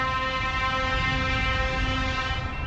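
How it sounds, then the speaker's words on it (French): A loud, sustained truck horn blares steadily for a few seconds, a rich multi-tone honk close by with no talking. "Je vais devenir sourd avec ce camion qui a klaxonné"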